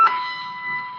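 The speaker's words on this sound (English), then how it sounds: "that's an alarm, 9 o'clock alarm, so it wasn't the phone" A 9 o'clock alarm sounds during a council meeting, a single sustained electronic tone that holds steadily for the whole second.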